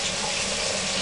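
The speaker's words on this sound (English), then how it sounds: "Run some hot water in a couple times to warm up these frozen things" Hot water runs steadily from a tap into a sink, a close, loud, unbroken rushing stream with no voices.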